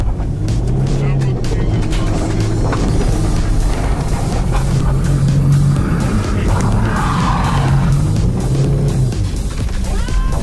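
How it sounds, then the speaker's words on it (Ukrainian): A diesel Range Rover drives through snow, its engine droning steadily up close with repeated swells in revs and a rough, churning texture from the tyres and snow. "Відчувається, що ця машина, звісно, легша, і в снігу вона їде набагато краще."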